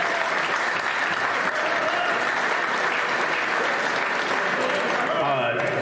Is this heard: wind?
no